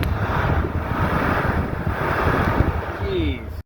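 A freshly bought $200 engine idles steadily after running for about 15-20 minutes, a constant low rumble with wind-like hiss throughout and no talk.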